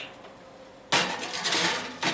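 A baking pan for a Mother's Day dessert slid into an oven heated to 180 degrees, giving a sudden loud metallic clatter and scrape followed by a second knock.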